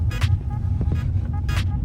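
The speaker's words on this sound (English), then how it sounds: "So I'm just driving it through this parking lot right now" An auction car rolls slowly through a parking lot, its low engine rumble steady and close, with a few brief bright clicks and squeaks rising over it.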